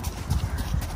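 Horse hooves clip-clop in a steady rhythm during a horse ride in Amden, Switzerland, with close, regular strikes repeating through the moment and no talk over them.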